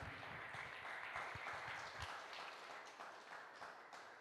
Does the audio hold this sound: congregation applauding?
yes